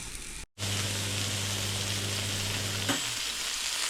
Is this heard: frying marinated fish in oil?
yes